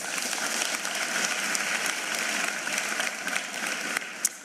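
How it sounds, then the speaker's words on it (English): An audience at the 2024 South African matric results announcement gives a sustained round of applause, a steady, fairly distant wash of clapping with a few sharper claps near the end. "Can we please give them a round of applause?"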